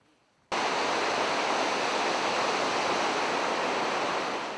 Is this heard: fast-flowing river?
yes